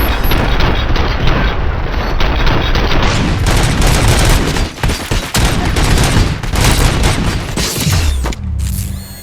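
Heavy gunfire from the video game RoboCop Rogue City rages loud and dense, sustained volleys mixed with booms and mechanical clatter, easing briefly midway before resuming and cutting off at the end.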